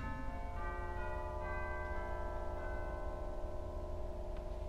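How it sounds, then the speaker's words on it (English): Sustained tubular chimes of the Wichita Wurlitzer theatre organ ring out together, a dense, steady, resonant bell chord with long overlapping tones at a constant loud level and no voices. "And then, of course, we had chimes."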